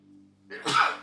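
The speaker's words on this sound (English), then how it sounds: "I'm going to sneeze again" A single loud sneeze bursts out after a short, faint inhale, sharp and close, with a breathy, hissing release.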